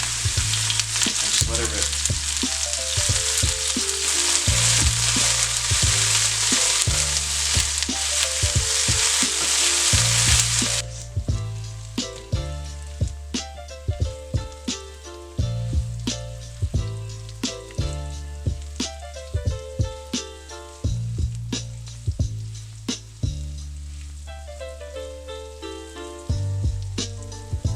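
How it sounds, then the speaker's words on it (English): Mushrooms land in a very hot pan of avocado oil and fry with an intense, loud sizzle that eases after about ten seconds, followed by repeated clattering stirs and tosses. A person speaks briefly. "Throw your mushrooms into the pan and"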